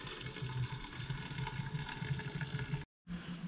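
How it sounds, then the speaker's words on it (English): Coolant pouring into the cooling system of a Vauxhall Insignia, a steady close-up liquid fill with a gurgling, splashing texture that runs continuously before a brief cut and then resumes. "Put that in there, and goes the coolant."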